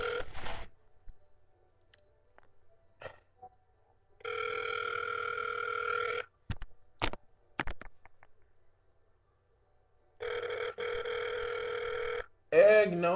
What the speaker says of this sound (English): I'm trying to see who I can call